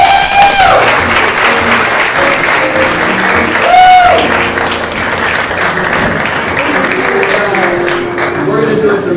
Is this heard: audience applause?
yes